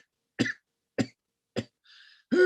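A man gives three sharp coughs spaced about half a second apart, followed by a brief wheeze and a final heavier cough, close and isolated.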